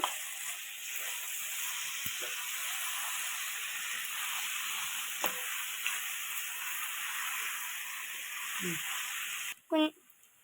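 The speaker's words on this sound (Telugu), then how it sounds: "ఇప్పుడు బంగాళదుంపలు దాంట్లో వేసుకుందాం కలిపేసుకోండి" Potatoes stirred into soya chunks frying in a pan, giving a steady close sizzle and hiss with a few light scrapes and a louder clatter near the end.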